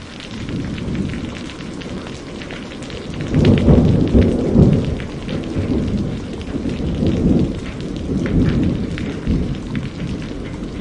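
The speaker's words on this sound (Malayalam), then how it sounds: "മഴ ശക്തമാകും." Heavy rain pours steadily over a village during a sudden summer storm, with a loud rumbling thunder roll swelling around the middle and further deeper rumbles throughout; no voices.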